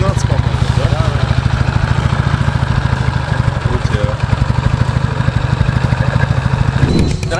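A Ural motorcycle fitted with an Akhov engine runs steadily up close at a dirt-track motocross event, its pulsing engine note continuous throughout, with people talking over it.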